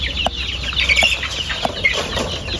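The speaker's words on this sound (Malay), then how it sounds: "Jom bagi makanan ayam dulu." Chickens cluck softly and intermittently over a steady outdoor background hum, with a few sharper calls standing out, while being fed.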